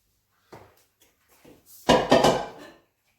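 A plate set down over a pan of crispy belly pork to trap the steam, giving a short ceramic clatter and scrape after a few soft kitchen knocks, close and fairly loud, no talking.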